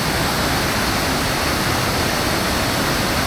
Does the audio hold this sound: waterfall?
yes